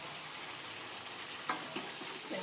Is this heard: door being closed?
no